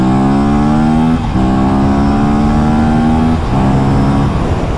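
An Aprilia RS457 motorcycle accelerates hard on an open road, its engine note climbing steadily through three gears with brief dips at each shift, loud and close with no talking.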